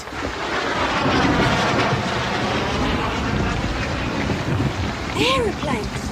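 Storm wind roars in a steady, dense rush that fills the whole stretch, with a faint voice briefly rising near the end.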